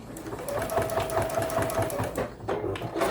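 A sewing machine stitches steadily through a fabric sticky-note cover with a snap closure, its rapid, even needle rhythm running close and loud without a break and no talking over it.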